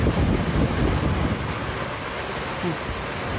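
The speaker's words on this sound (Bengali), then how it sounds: "প্রচণ্ড বৃষ্টি পড়ছে, প্রচণ্ড বৃষ্টি" Heavy rain pours onto a road in a loud, dense, unbroken roar, with gusty rumbling wind noise mixed in.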